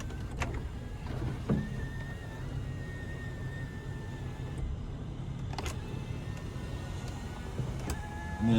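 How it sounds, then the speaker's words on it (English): A dual pane sunroof motor on a 2021 Toyota Camry XSE V6 whirs steadily inside the cabin for several seconds, a thin continuous hum over low road rumble, marked by a few clicks. "a nice dual pane sunroof here, which you can one-touch"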